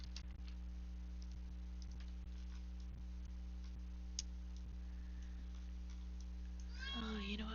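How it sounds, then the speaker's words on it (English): A house cat lets out a short, wavering howl near the end, following several seconds of quiet keyboard clicks and a low electrical hum indoors. "If you hear my cat howling at me"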